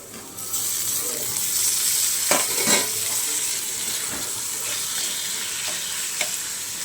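Fenugreek seeds sizzle in a pan, and tomatoes go in as the frying bursts up briefly. Then the close hiss carries on steadily with a few faint utensil taps.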